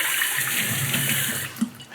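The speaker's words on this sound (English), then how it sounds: "Took my dirty pot to the sink, gave it a rinse, and set it aside." Kitchen sink tap running hard as a dirty pot is rinsed, a steady close hiss of water that cuts off near the end with a small clunk.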